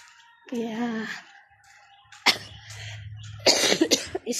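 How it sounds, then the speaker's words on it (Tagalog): Several short, harsh coughs in two bursts, close to the mic, following a brief stretch of speech-like voicing, with a low hum in between. "Naubo-ubo pa rin ng konti guys."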